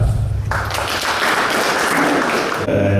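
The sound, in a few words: audience clapping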